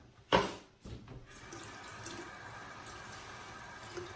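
Warm water splashes from a tap onto a synthetic shaving brush at a bathroom sink, a sharp burst at first easing into a steady, soft running stream.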